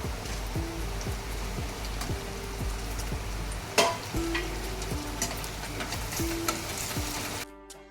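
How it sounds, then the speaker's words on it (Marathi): Onion and tomato sautéing in a hot pan, a steady sizzle with repeated scraping stirs of a spoon, near and continuous with no talking. "कांदा आपल्याला थोडा सोनेरी होईपर्यंत परतवायचा आहे"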